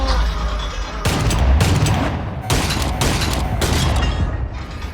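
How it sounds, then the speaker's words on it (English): Pistol gunfire in the VR game ArmZ VR: dense, loud volleys of shots in several bursts separated by brief pauses, close and booming with a rumbling low end. "I'm kind of doing this with one pistol"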